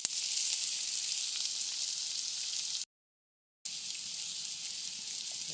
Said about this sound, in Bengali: পেঁয়াজ আর লবণ ভেজে নিচ্ছি।